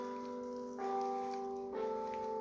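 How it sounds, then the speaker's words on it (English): Church bells ring at a historic mission chapel, sustained tonal chimes with two fresh strikes about a second apart, each ringing out and overlapping the last, faint and distant. "Church bells."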